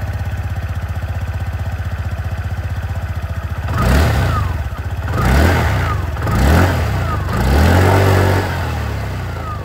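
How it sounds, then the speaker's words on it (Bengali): A 2025 TVS Jupiter 125 DT SXC scooter with a 125cc engine, heard close at the exhaust: a steady idle, then three rising revs that fall back, the last held longest, loud and without talk. "এবার আপনাদেরকে আমি এখানে যে এক্সস্ট সাউন্ডটা আছে সেটাও আপনাদেরকে একবার এখানে শুনিয়ে দিই"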